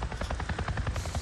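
Rapid rhythmic chopping of a helicopter's rotor in the Days Gone video game, a steady beating thrum at moderate distance, faint and with no voices.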